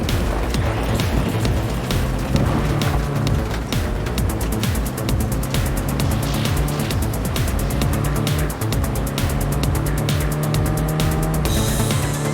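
A car driven in the video game Cyberpunk 2077 gives a steady, loud engine drone with brief tire squeals, running continuously with no talking.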